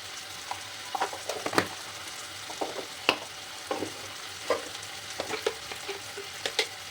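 Turmeric and chili powder go into a sizzling pan of fat for a ghugni recipe, giving a continuous frying hiss punctuated by frequent sharp clicks and taps from the stirring spoon, with no voices.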